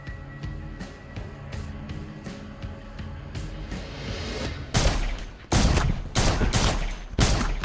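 Gunfire from a house shootout in an action film scene at night, several heavy bursts of shots in the second half crashing over a tense music bed, loud and close.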